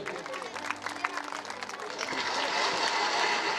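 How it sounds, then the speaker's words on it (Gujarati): Audience applause at a community gathering, a Prajapati Pragati Mandal sneh milan event in Ranip, rising into a dense, sustained wash of clapping from a large seated crowd, with voices mixed in early. "ફરી એકવાર સાહેબનો આપણે તાળી દ્વારા વધાવી લઈએ."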